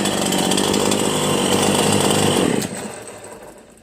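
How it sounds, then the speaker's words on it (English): A Stihl chainsaw engine buzzes loudly and steadily at close range, then drops away, its rough drone fading over the last second. "Idle's nice and smooth too. That's why I love steel chainsaws."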